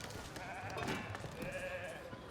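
Sheep bleating at a sheep farm in the video game Foundation, on the Pinewood map: a couple of wavering, nasal bleats over a steady background of game ambience, moderately loud and close.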